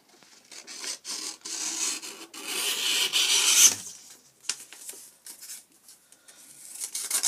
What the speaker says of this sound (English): I've cut off 4 strips. I have to do 4 more, which is 3 more cuts.